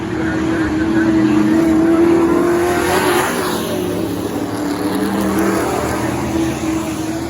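Pro trucks race at Crystal Motor Speedway. Their loud, steady engines drone and swell as they pass, with a voice talking over the racing noise.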